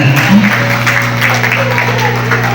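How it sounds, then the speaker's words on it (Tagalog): Guests applaud at a baptism celebration, a steady patter of clapping under a low sustained hum, with a voice speaking over it. "Palakpak naman tayo dyan"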